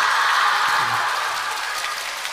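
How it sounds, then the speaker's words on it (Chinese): Audience applause fills a crosstalk (xiangsheng) comedy show by the Deyun She troupe, a steady, dense wash of clapping that holds without a break and eases off slightly toward the end. "谢谢你们点到为止的掌声"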